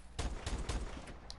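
Mors semi-automatic rifle in Apex Legends fires a few sharp shots, three or four close, loud bursts spaced irregularly over a second and a half, with no voices.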